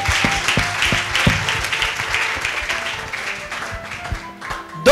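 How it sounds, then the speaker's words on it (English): A church congregation claps and applauds steadily during a Sunday service, a dense wash of hand claps with organ or keyboard notes sounding underneath. "Clap for Jesus."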